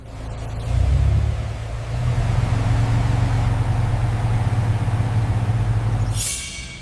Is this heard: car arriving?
yes